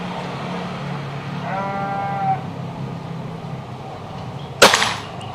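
Air rifle fired once, a single sharp close crack near the end, preceded by a sheep bleating and faint outdoor background noise.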